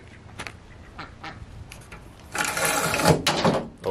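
Young ducks quacking at close range on a homestead, with a few soft calls at first and then a louder burst of several quacks near the end.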